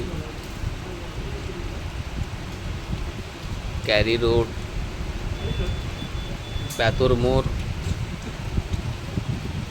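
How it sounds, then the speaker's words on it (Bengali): Steady hiss of heavy rain fills the background throughout, with a couple of short spoken phrases near the middle and end. "দেখুন আমাদের এখানে প্রচুর পরিমাণে বৃষ্টি হচ্ছে।"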